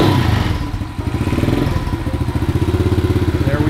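Buscadero BSX 110 semi-automatic mini bike's small gas engine starts and settles into a loud, steady, close-up putter with rapid regular firing pulses throughout.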